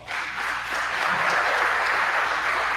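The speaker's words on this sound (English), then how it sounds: "let's give them a round of applause" Audience at a live alumni talk event giving a steady round of applause, a dense even patter of many hands clapping without a break throughout.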